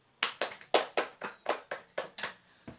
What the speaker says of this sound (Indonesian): Tepuk tangan untuk Tutut.